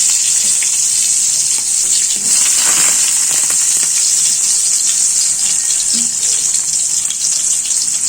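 Chopped onion sizzles in hot oil in a pan while potato palya is made, a loud continuous hissing crackle that runs steadily throughout with no talking.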